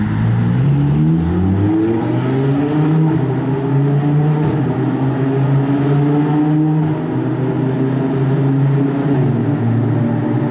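A Ferrari 812 Competizione Aperta accelerates past, its loud V12 drone rising and falling as it sweeps by near, with other traffic noise around.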